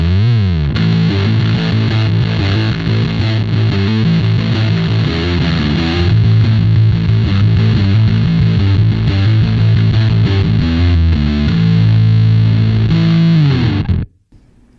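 Electric guitar played through a Big Muff fuzz pedal, heavily distorted and sustained riffing throughout with the bass boost engaged partway, thickening the low end, then cutting off abruptly near the end.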